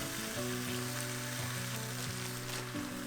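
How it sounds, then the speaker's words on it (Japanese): Frozen minced meat sizzles steadily in a frying pan, giving a continuous crackling hiss at low volume. A faint tonal hum sits underneath, and nobody talks. "ひき肉も解凍せずにそのままフライパンに入れて大丈夫です"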